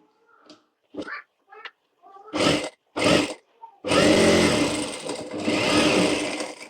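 A sewing machine stitches a princess-cut blouse, with a few short bursts of whirring followed by a longer continuous run near the end, loud and close.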